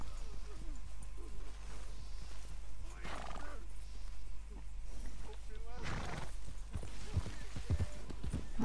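Black Arabian horse galloping in Red Dead Redemption 2, rapid rhythmic hoofbeats with a couple of neighing bursts, set against a low steady hum and background music, with a voice talking intermittently.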